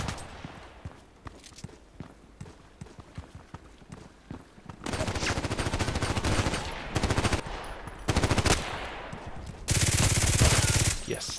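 Contract 50 pistol shots in Sniper Elite, a series of sharp cracks with footsteps and game noise, growing louder in dense bursts toward the end.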